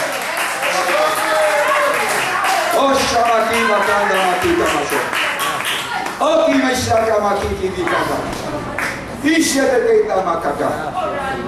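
A church congregation applauds, lively clapping running under a preacher's loud, continuous speaking voice, with some cheering from the crowd.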